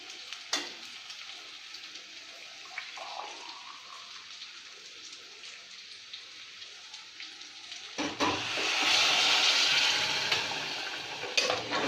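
Hot water hits a pot of frying Punjabi mutton, swelling a steady sizzle into a louder, hissing rush of boiling and bubbling, close by with no talking.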